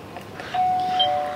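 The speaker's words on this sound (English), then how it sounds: "I so hate doorbells." A single electronic doorbell chime rings out clearly over a quiet background, with no voices.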